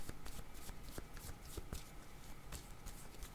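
A deck of tarot cards being shuffled by hand, soft riffling and repeated papery slaps in an irregular rhythm, close and quiet with no voices.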